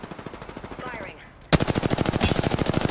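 Rapid automatic gunfire from a video game, loud and close, in two sustained bursts with a brief lull just before the second, louder burst.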